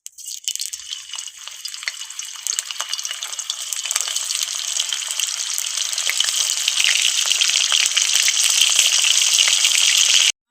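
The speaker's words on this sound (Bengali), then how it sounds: "ভেজে নেবো আমি ভেজে নেওয়ার জন্য কড়াইতে দিয়ে দেবো তেল" Paneer frying in hot oil in a kadai, a steady dense sizzle and crackle that builds and holds loud and close throughout, with no talk.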